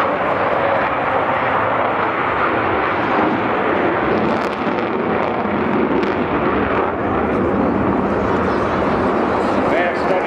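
A vintage Royal Air Force jet with Olympus 202 turbojets roars overhead at an air festival, a loud, continuous broadband engine rumble that fills the whole stretch without letting up.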